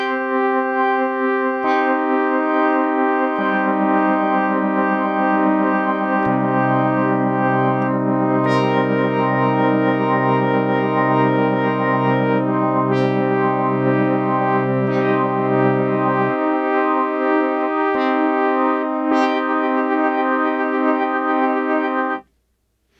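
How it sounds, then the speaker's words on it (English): Hydrasynth synthesizer playing a sustained, evolving chord-like drone with a shifting bass line beneath, its tone stepping and pulsing as a step-advance LFO pans it, loud and continuous with no voices. "You're going to hear not only the pan change with the depth of the panning, but also the rate of that panning."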